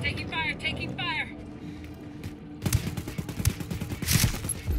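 Rapid bursts of gunfire crackle in the Ghost War PvP mode of a tactical shooter, arriving after a stretch of quieter game sounds with a voice talking over the action.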